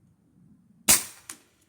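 A single sharp crack from a Gamo Whisper Fusion Mach 1 .22 air rifle fired standing freehand outdoors, followed a moment later by a fainter snap of the pellet striking, with a low hum beforehand.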